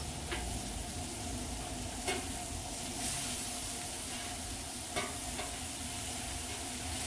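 Thin ribeye steaks sizzle on a flat griddle, a steady low frying hiss throughout with a few faint clicks and scrapes, heard alone and fairly quiet.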